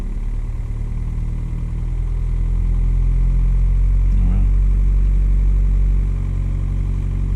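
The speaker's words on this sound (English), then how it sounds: "So the engine's revving." A VW car engine runs loud and steady, its low drone swelling as it revs up and holding there before settling slightly.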